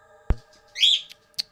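A pet bird indoors gives a couple of short bright chirps, one longer warbling call and then a brief high peep, set after a single dull knock, all fairly close and with no talking.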